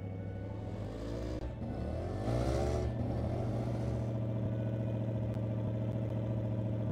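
A car engine hums steadily while driving downhill in the Roblox game Robloxian Highschool, a mid-pitched motor drone that rises slightly as it accelerates, fairly quiet and continuous without talk.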